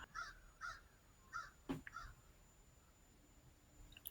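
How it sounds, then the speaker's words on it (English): Ravens caw outside, several hoarse calls spaced apart, faint and distant in a quiet setting. "Do we hear those ravens outside?"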